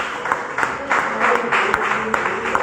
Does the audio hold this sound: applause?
yes